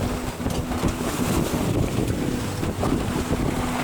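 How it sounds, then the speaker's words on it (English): Strong wind buffets a microphone aboard a sailboat in the Blekinge archipelago, a constant loud roar with gusty surges and water wash underneath, and no voices. "we are on our way, and it's very windy and it's very bumpy"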